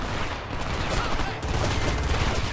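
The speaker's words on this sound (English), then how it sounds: "Under heavy fire." Dense, loud gunfire rattles without a break in the shooter game Homefront, a chaotic barrage of overlapping shots and bursts, with a voice mixed in beneath it.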